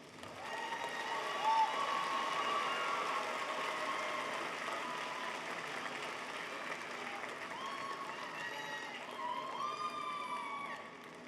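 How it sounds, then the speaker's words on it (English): Audience at a 2019 fall university commencement applauds graduate students, a steady wash of clapping with some cheering that holds throughout, broad and moderately loud, with no speech over it. "Let's applaud the graduate students."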